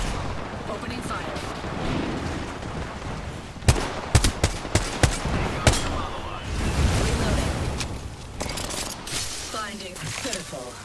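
Apex Legends gunfire bursts into a rapid string of sharp shots around the middle, set against a dense, noisy battle backdrop of rumbles and scattered effects, with a character voice speaking at points.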